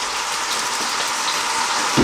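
Butter and chicken sizzle in a hot pan, giving a constant close hiss with light crackling and a small bump right at the end.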